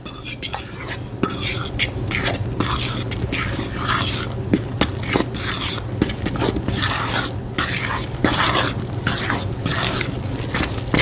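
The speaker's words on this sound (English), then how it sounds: "You want to stir it with a fork." A fork stirs and scrapes through a goulash dough mixture of milk and flour in a bowl, making a continuous run of close, brisk scraping and clinking strokes with no voices.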